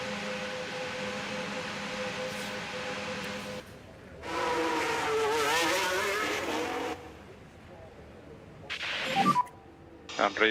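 F1 race cars circle the Netherlands track in F1 Manager, with an Aston Martin team involved: a steady engine drone rises into a louder high-pitched whine as a car passes near, then fades, followed by brief sharper bursts.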